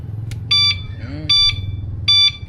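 A motorcycle turn signal indicator beeps: three evenly spaced electronic beeps, each about a quarter second long, repeating at a steady pace over a low engine-like hum.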